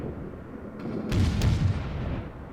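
Naval guns of the Italian Tier-5 cruiser Montecuccoli fire in a World of Warships battle, a loud booming salvo that bursts in and rumbles on over steady background engine and sea noise.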